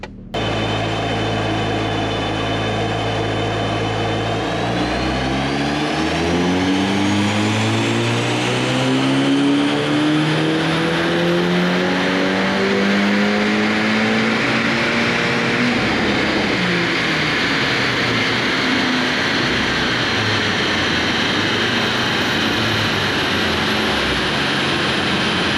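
A Mk5 Golf GTI fitted with a K04 turbo pulls hard during a tuning run, its engine note climbing steadily in pitch for several seconds, then settling into a loud, sustained roar with a whine riding over it.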